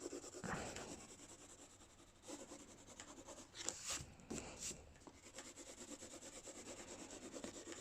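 A pencil shades a sphere drawing on paper with soft, continuous scratching strokes, faint and close, rising in a few brisker bursts of rubbing.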